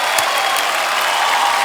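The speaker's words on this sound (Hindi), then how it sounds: "एक बार जोरदार तालियां हो जाए हमारे सभी खिलाड़ियों के लिए" A studio audience at a TV comedy show claps loudly in a steady, dense burst of applause with no talking over it.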